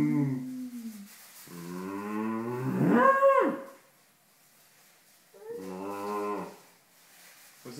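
A young child imitates a cow, giving two drawn-out, rising and falling moos close to the microphone with a pause between them and a quiet room behind.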